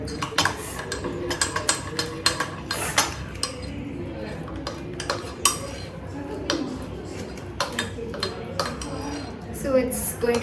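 A spoon whisks mug cake batter of cocoa powder fast inside a mug for an eggless microwave cake, producing a rapid run of close, sharp clinks and scrapes against the sides, with a voice talking intermittently.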